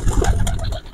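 Young pigeons in a loft, low soft cooing and murmuring, close and steady through a brief moment with no talk.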